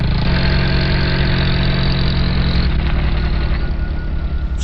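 A jeep's engine idles nearby, a steady loud rumbling drone with a knocking vibration, holding constant before shifting slightly in tone partway through, with no voices.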